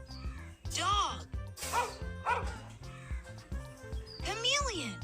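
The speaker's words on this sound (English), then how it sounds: "dog" A cartoon dog gives several high, yappy barks and yips over a bouncy children's song with a steady beat, the barks loud and close and spread through the stretch.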